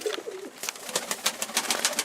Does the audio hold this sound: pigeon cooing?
yes